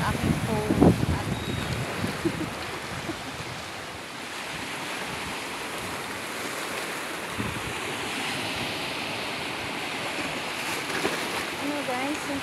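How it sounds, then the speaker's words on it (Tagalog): Strong sea waves roll and crash at a beach at Talisay resort under heavy, continuous wind buffeting, with a brief voice early on. "Ang lakas ng alon guys."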